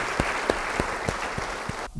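A church congregation applauds, a short burst of scattered clapping with distinct individual claps, moderately close, ending abruptly.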